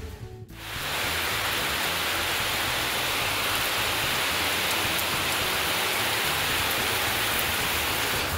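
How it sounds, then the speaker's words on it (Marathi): Steady, heavy rain pours down in a dense, continuous hiss after a brief quieter moment at the start, with no voices. "तर मंडळी पावसानं सुरुवात केलेली आहे"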